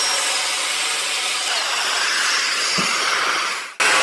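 A saw cuts through thick timber for a garden stool, giving a loud steady rasping hiss for nearly four seconds that ends abruptly as the cut finishes.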